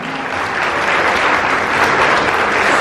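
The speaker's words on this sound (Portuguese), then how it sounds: "Aplausos, Senhor, pela vida do Arthur." A church congregation bursts into dense, sustained applause, many hands clapping at once in a loud, continuous wash that holds steady throughout.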